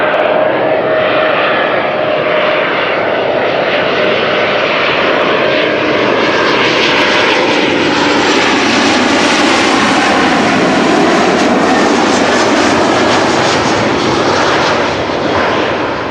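An Embraer 190 jet arriving at Amsterdam Schiphol Airport roars loudly and steadily overhead, its engine noise swelling and shifting in pitch as it passes close by over about sixteen seconds.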